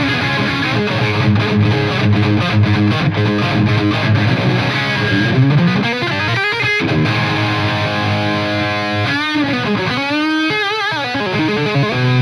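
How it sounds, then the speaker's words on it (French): A Hughes & Kettner Triamp MK3 amplifier on channel 2B plays a thick, saturated 80s-style distorted electric guitar, loud and continuous, with sustained chords and bending lead notes and no voices. "Le canal 2B est riche et plein de personnalité."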